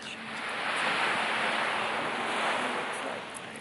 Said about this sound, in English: very nice to be on the beach this early in the morning